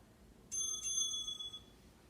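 A single bell chime marks the end of a hamstring and low-back stretch in a flexibility session, one clear ringing strike with a quick second touch, bright and sustained for about a second before fading into a quiet room.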